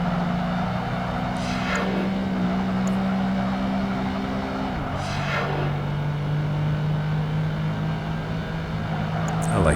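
Racing car engines from the video game Project Gotham Racing 2 drone at steady, loud full throttle. Two sharp gear shifts drop the pitch partway through, and no one speaks.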